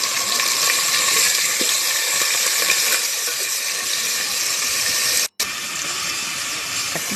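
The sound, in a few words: ground garlic and coriander paste sizzling in hot oil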